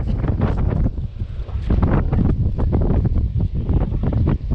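Strong wind buffets a fishing boat out at sea, roaring loudly across the microphone in continuous gusts.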